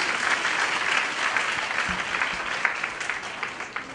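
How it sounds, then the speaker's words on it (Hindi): An audience at a social etiquette talk bursts into steady, dense applause that fills the whole stretch at an even, fairly loud level, with no voices over it. "अब ताली कौन बजाएगा?"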